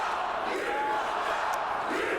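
Wrestling event crowd roars in a dense, sustained wall of shouting and cheering that fills the arena at steady loudness throughout, with no clear single voice standing out.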